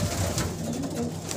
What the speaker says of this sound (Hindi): 265 कबूतर हैं ये